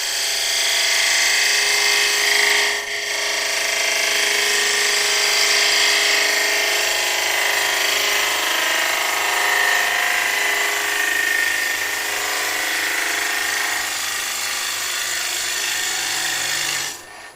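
A bowl gouge is pushed hard into wood spinning on a lathe, giving a loud, continuous, close cutting roar that holds nearly unbroken for about seventeen seconds with only a brief dip early on.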